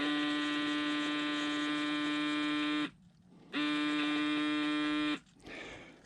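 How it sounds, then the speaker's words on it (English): A model submarine's ballast air pump, on a Moebius Seaview, whines in two steady electric runs of about three seconds each, separated by a brief pause and followed by a quieter tail, close and alone. "It's air pump. Listen."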